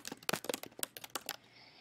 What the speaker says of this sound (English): So I'm just going to type a brief note.